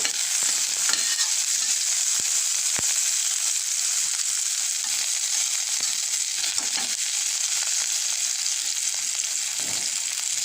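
Garlic and red onion fry in hot oil in a pan while being stirred. A loud, steady sizzle runs without pause, broken by a few faint scrapes and clicks from the stirring.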